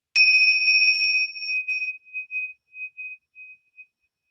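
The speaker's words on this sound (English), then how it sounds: "we're going to listen until you no longer hear the sound of the bell" A mindfulness bell is struck once, its bright pure tone ringing clearly and then pulsing and fading away over a few seconds into silence.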